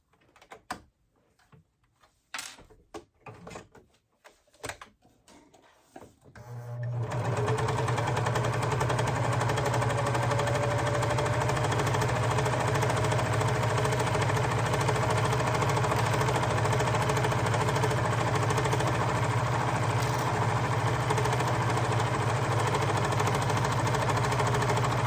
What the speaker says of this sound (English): I'm just going to sew down this side here on my serger